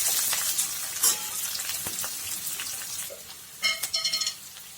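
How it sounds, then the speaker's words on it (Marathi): Chopped onion frying in a pan, a soft steady sizzle with scattered pops and a few sharper clicks and clatters toward the end, nearby and without speech. "हा कांदा आपल्याला छान तळून घ्यायचा."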